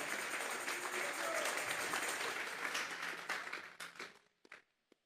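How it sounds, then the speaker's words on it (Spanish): A congregation at a Sunday church service applauds loudly and steadily, the clapping thinning into scattered final claps and stopping. "Dele fuerte esas palmas al Dios de la gloria"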